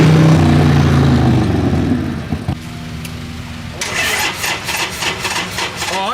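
A motorcycle engine fires up loudly after a crank, then settles into a rough, pulsing idle with rhythmic throttle blips, close to the listener.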